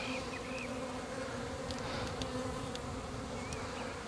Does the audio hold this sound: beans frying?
no